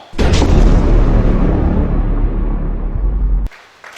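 A church congregation at a Gabonese worship service bursts into loud, dense applause and acclamation to God. The crowd roar is heavily distorted and sustained for about three seconds, then cuts off abruptly into a quieter hush.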